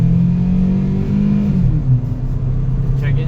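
A 2000 Toyota Celica GT engine revs hard under acceleration, loud and close, its pitch shifting as the car pulls, with steady road rumble underneath.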